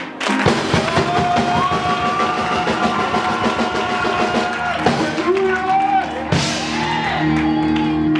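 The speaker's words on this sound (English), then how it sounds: "Let's clap our hand for Jesus." Church congregation claps and cheers for Jesus during a Sunday service, loud continuous clapping with shouts and whoops, several voices rising over the crowd.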